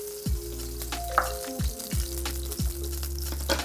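Teriyaki steak searing in a hot skillet gives a steady close sizzle, with a few clinks and scrapes of utensils over a low background hum.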